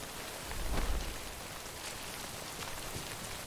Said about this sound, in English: Rain over there.